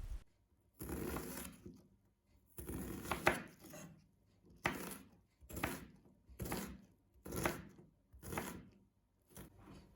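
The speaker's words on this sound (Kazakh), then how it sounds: "бір пияздың сыртын ашып, жақсылап тұрып жуып, оның жартысын ұсақтап етіп турап аламыз" An onion half, peeled and washed, is finely chopped with a knife for a minced-meat filling: about eight rhythmic bursts of rapid blade strokes separated by short pauses, fairly close and with no talking.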